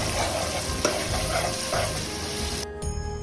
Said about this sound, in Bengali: আদাটা দিয়ে ভালো করে ভেজে নেব কিছুক্ষণ